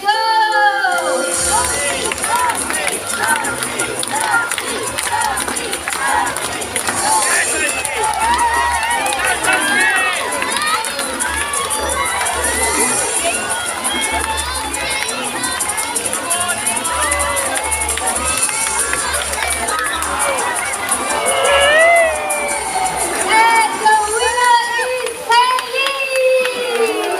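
A crowd of supporters cheers and shouts continuously, with many children's voices among them, during a bird show game at Jurong Bird Park in Singapore where birds gather fruit, loud and busy throughout.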